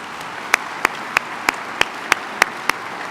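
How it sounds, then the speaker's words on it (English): At a health quality conference keynote, crisp claps fall in a steady, evenly spaced rhythm, about eight in a row, standing out clearly over a faint room murmur. "A round of applause, I think, again, is in order."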